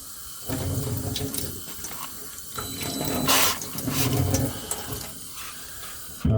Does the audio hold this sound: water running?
yes